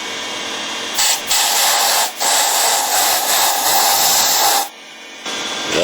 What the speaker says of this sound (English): We can do that with the air hose.